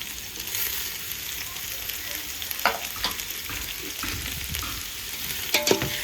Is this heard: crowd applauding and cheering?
no